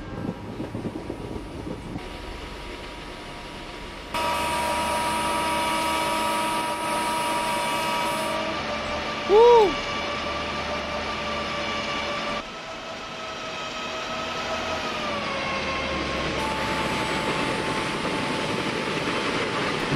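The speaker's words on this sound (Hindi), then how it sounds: "ओ गाइस यहां पे ट्रेन जा रही है लेफ्ट हैंड साइड से।" A train passes in the Indian Train Simulator game, a steady rumbling rush of railcars that holds across the whole stretch, with a brief loud horn blast partway through.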